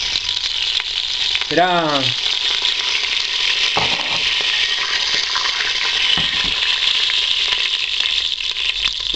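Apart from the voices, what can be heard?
mustard seeds popping and sizzling in a hot pan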